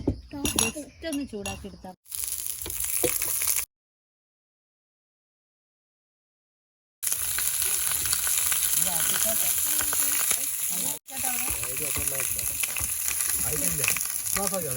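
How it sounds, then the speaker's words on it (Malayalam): A burger bun toasts on a hot pan with a bright sizzle, broken by a few clinks and a long silent gap before the frying resumes. Someone talks over it. "നമുക്ക് ബണ്ണൊന്ന് ചെറുതായിട്ടൊന്ന് ടോസ്റ്റ് ചെയ്തെടുക്കാം."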